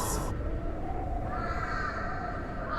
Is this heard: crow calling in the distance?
yes